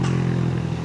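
Remapped Honda Winner X motorcycle engine idling or running close by, a steady low throbbing drone with harmonic buzz, constant and alone without voices.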